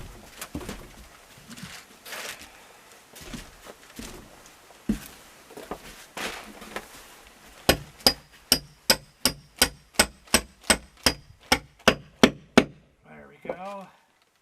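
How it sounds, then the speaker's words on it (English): After some talking and scattered knocks, a hammer drives a chainsaw-milled wooden beam into place about a dozen times in a steady, sharp, ringing rhythm, close by, followed by a short spoken word. "I'm definitely going to have to hammer it in."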